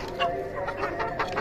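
A home-bred hen clucks softly in a series of short, quick calls, fairly faint and close, with a low background hum.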